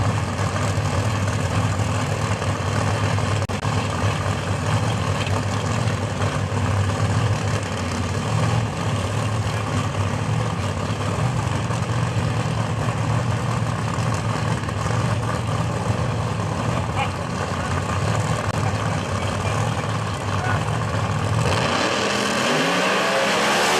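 Drag racing cars roar through a loud, sustained run at Maryland International Raceway during PDRA testing, one of them Ed Burnley's Pro Boost machine driven by Tony Wilson, with a steady engine drone that drops off abruptly near the end.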